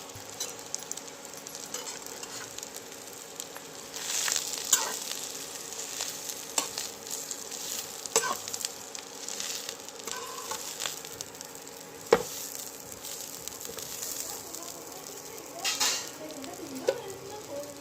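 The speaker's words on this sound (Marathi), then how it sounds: "भाजी थोडीशी परतून घेतल्यानंतर आपण यामध्ये टाकून घेणार आहोत मीठ" Chickpea greens bhaji is sautéed in a pan with a soft, continuous sizzle. Occasional scrapes and clicks of stirring sound close but low in level, and there is no speech.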